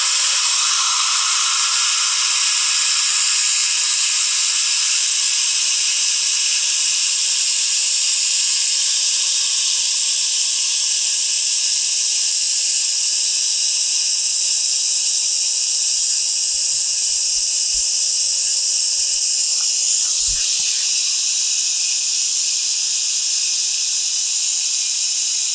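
An air blower inflates an AirSkirts RV skirting tube beside an Airstream, giving a steady, loud, continuous hiss and whoosh that holds unchanged throughout, with a few faint low knocks near the end and no talking.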